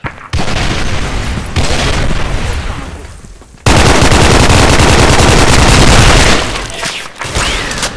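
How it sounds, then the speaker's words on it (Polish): Loud bursts of automatic gunfire and booming explosions in a video game battle, with a grenade blast among them; sustained rattling fire runs almost throughout, broken by a short lull before a heavy, dense barrage. "Rzucam granat!"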